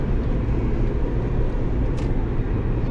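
A Mini R52 convertible's engine drones in the cabin while driving, a steady low buzzing hum with road rumble, continuous and fairly loud, with no talking.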